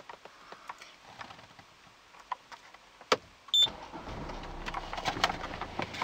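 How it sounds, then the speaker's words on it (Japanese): A BMW 523d M Sport diesel with push-button start is started from inside the cabin, a few soft clicks and ticks followed by a sudden thump as the engine catches, then a low, steady idle rumble. "ちょっとエンジンをかけてみます"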